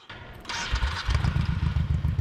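A motorcycle fitted with a Cobra 2-into-2 Classic Deluxe staggered dual slash-cut exhaust cranks and fires up, settling almost at once into a deep, lumpy, pulsing idle close to the listener.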